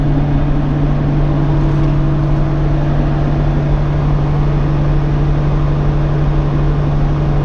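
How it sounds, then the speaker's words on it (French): A combine harvester's diesel engine runs loud and close at raised revs, a steady droning roar with a strong low hum that holds evenly throughout. "papa m'a demandé d'accélérer un peu le moteur"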